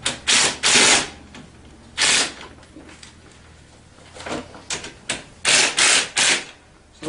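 Ratcheting bursts from tightening bolts on the handlebar clamps of a Tao Tao ATA 150B ATV, several short rapid clicking runs separated by pauses, close and fairly loud.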